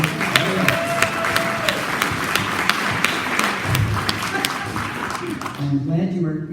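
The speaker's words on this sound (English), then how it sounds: "I'm glad you were clapping for oaks" Audience at a nature talk about oaks and native plants claps and cheers, a dense sustained applause with sharp individual claps standing out, fading toward the end as a voice begins speaking.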